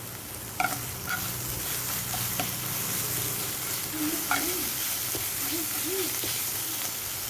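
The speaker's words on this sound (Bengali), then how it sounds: "এবার আমার এই রসুন পেঁয়াজ আদাটা ভাজা হয়ে গেছে" Garlic, onion and ginger sizzle steadily in a hot pan, a continuous close frying hiss with a few sharp utensil clinks and some faint background tones.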